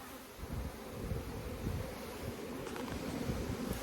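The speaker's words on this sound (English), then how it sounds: "you can see all the bees flying back to the same place" Bees fly around their hives in bright sunny weather, a close, continuous droning buzz from many insects at once.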